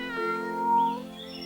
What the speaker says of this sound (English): While strolling the garden, they saw a kitten.